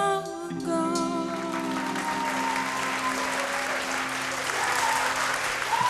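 A live audience at a vocal competition show claps steadily and loudly after a song, the last sustained musical tones fading out as the applause builds and carries on throughout.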